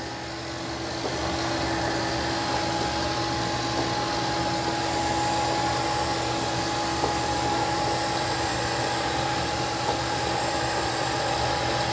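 Narwal Freo X Plus robot vacuum wet mopping on the strong setting, a steady droning motor hum close by, continuous and unchanging throughout.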